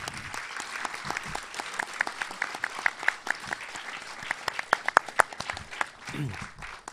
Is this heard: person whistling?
no